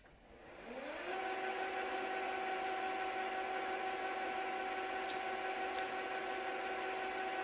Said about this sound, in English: The first cut should be deep enough so that most of the rust goes away.